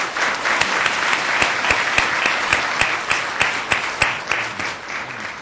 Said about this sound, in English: So please join me in giving a round of applause to our speakers